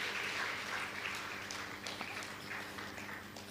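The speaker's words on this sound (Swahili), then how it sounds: "Makofi zaidi, makofi zaidi." Clapping from an audience at a World Press Freedom Day ceremony in Tanzania, fairly faint and distant, with scattered sharper claps rising through a steady wash of applause.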